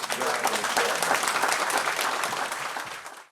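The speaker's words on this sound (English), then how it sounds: "So let's give them a little round of applause." An audience claps for Franciscan friars at an outdoor Mass, steady dense applause for about three seconds that fades out at the end.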